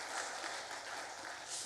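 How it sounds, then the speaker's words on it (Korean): A Sunday morning church congregation claps together to encourage a young worship leader heading off to military service, a steady wash of many hands lasting under two seconds at moderate distance. "군생활 잘하라고 박수로 한번 격려하겠습니다"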